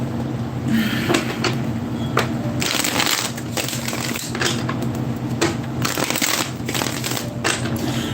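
A deck of tarot cards is handled and shuffled in continuous papery riffles and slides with sharp snaps, close and steady throughout, no talking.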